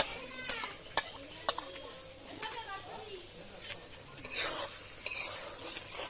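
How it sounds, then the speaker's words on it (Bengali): Taro cooking in a pan with ground poppy seed and mustard paste is stirred, a spoon knocking and scraping the pot in several distinct clinks over a quiet, soft sizzle. "দিয়ে একটু ভালো করে নেড়ে আর একটু কষিয়ে নেব।"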